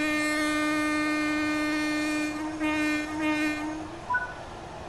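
A train horn in the Train Sim World 5 video game holds one steady, loud, tonal blast for about four seconds, then fades out.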